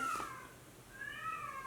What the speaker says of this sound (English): If you can hear that in the background, don't worry, it's just the cat.